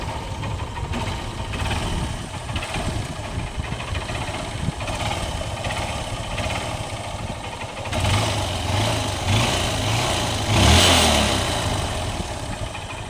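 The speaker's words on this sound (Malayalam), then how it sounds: "വാഹനം ഒന്ന് സ്റ്റാർട്ടാക്കി നോക്കിയിട്ട് അതിൻ്റെ സൗണ്ടും എൻജിനൊക്കെ എങ്ങനെയുണ്ടെന്ന് നമുക്ക് ജസ്റ്റ് ഒന്ന് നോക്കേടാ" A Honda Unicorn motorcycle engine idles steadily at close range, a low continuous drone that swells slightly louder near the end, with no talk over it.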